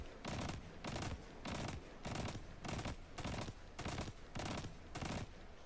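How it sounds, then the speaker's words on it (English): Hip-fire gunshots from a weapon in a video game, coming as seven or eight loud automatic bursts, each about half a second long and separated by short pauses, close and with no talk. "I'm going to just do a hip fire to see"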